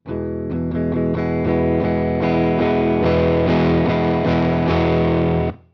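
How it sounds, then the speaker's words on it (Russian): Heavily distorted guitar amplifier cranked to maximum volume, a loud, dense, saturated tone with repeated chord strikes sustaining for several seconds before cutting off abruptly. "когда на усилителе выкручиваешь громкость на максимум, появляются искажения вот такие"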